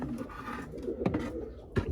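Pigeons coo softly in a loft, low murmuring calls repeating faintly with a few brief rustles and taps nearby.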